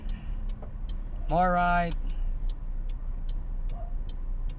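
A car idles and creeps along in first gear under clutch control during a driving lesson, with a low steady engine hum and a rhythmic indicator ticking throughout; an instructor speaks briefly.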